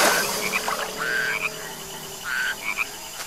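Several frogs croaking in short repeated bursts, close and fairly loud, with a steady wash of outdoor ambience between the calls.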